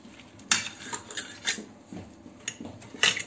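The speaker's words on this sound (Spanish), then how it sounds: "Ahora se remueve todo bien" Stirring lemon chicken with vegetables in an oven dish, with a utensil scraping and clinking against the dish in irregular close strokes, each with a bright metallic edge, and no talking.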